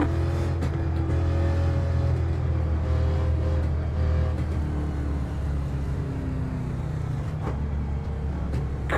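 Race cars in a sim racing video game drone past at close range, a loud continuous engine roar with shifting pitch as several cars pass in succession, with no talk over it.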